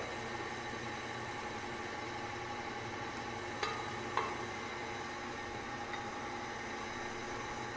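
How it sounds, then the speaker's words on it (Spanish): An electric mixer runs at low speed, beating banana cake batter with a steady, even whir that never changes pitch. Two brief clicks sound partway through, and no one talks. "voy a comenzar a batir a velocidad baja para que se integren estos dos ingredientes"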